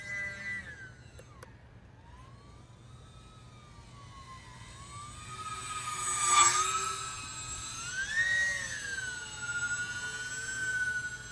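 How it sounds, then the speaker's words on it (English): A small E-flite Aero Commander UMX electric RC model plane's motor whines steadily in the distance, its pitch rising and falling as it passes overhead, swelling louder midway, in calm daytime conditions. "It definitely flies more like a real loaded plane"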